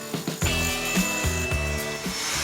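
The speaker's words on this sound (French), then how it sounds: "Un marteau-piqueur en guise de scalpel et l'opération peut commencer" A jackhammer chatters in rapid percussive bursts against old lime mortar and stone on a 1603 fortification wall in Langres, loud and close, with short pauses between strikes.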